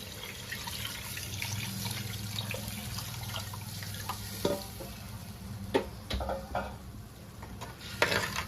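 Tamarind juice poured into a pan for Nellore-style fish curry, a steady watery splash and hiss with soft stirring scrapes and a few sharper clinks near the end, no talking.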